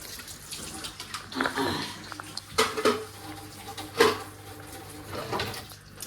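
Dishes and pots are washed in a home kitchen: running water and scattered clinks and clatters of utensils and pans, fairly close, with occasional faint voice nearby.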